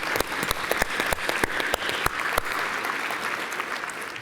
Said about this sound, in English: Please, a round of applause for all of our sponsors.